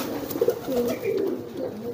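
A young pigeon coos loudly and close, a deep throaty rolling call that swells and wavers for a couple of seconds.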